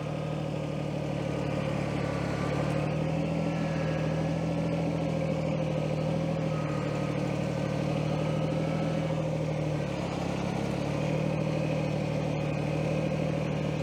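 A tractor engine runs steadily at idle close by, a continuous low droning hum with faint clatter that stays even for the whole stretch, with no talk over it.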